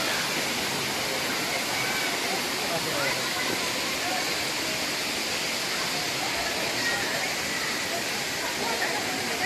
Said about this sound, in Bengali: দেখুন ঝর্ণার জল বেশ ভালোই আছে।